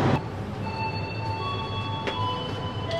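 An Argo Muria New Generation passenger train stops at Batang station, with a steady low rumble of carriages and faint, sustained high wheel squeals and brake tones drawn out over it.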